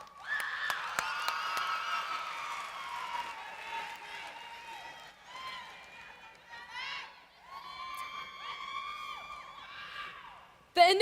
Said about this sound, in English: Let's give them a round of applause for all their support.